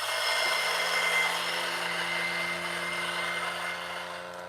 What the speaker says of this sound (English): I like to turn the grinder on and then feed this in.